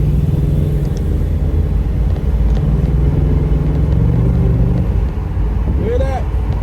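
A Ford Mustang cruising in normal drive mode gives a loud, steady low engine rumble from inside the car, holding evenly throughout, with a brief tonal sweep near the end.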